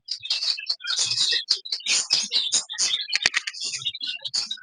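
Australian parrots chirping in close succession, a busy run of sharp high tweets and calls with brief gaps, near and clear, no talk over them.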